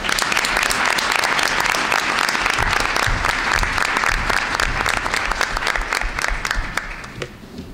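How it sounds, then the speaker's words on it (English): An audience at a school board of education meeting bursts into loud, sustained applause, many hands clapping densely and evenly before tapering off near the close. "And so please give a round of applause to Yujong Choi, please."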